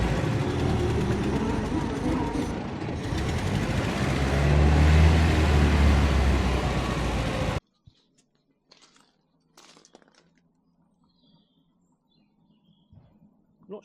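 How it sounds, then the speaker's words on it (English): A 1920s vintage car engine running while overheating, with a dense, steady rumble and churning bubbling noise for about seven seconds before it cuts off, leaving near silence with a few faint knocks. "But the car is literally bubbling."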